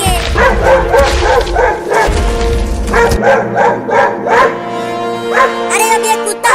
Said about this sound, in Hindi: अरे अब ये कुत्ता हाथी के ऊपर क्यों भौंकने लगा?